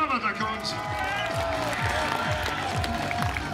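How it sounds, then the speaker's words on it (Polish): Crowd applause and cheering ring out at a strongman competition in Augustów, Poland, steady and loud throughout, with an announcer's amplified voice speaking over it and rhythmic thumping beneath. "Wielkie brawa dla Kończy"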